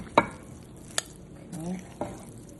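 Seafood japchae being mixed with egg, a few separate clicks and knocks of utensils against the dish with soft scraping between them, close and fairly quiet.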